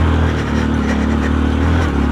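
Motorcycle engine running steadily on a rural road in a remote hillside village, a loud close mid-pitched drone with constant wind and road rumble throughout.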